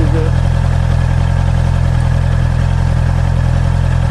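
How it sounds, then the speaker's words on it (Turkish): Honda CB650R motorcycle engine pulling away in third gear, a loud, steady, close mechanical drone with a constant rhythmic pulse throughout. "motor üçüncü viteste zaten aşağı düşür diyor ama düşürmeden de kalkıyor"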